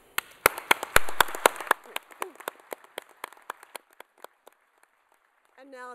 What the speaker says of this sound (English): I'll ask you to stand and acknowledge and applaud those on the stage